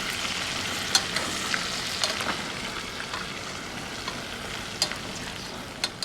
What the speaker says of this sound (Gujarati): આ રીતે થોડોક હરગવાને સડવા દેવાનો તેલમાં તેલમાં પછી હલાવવાનો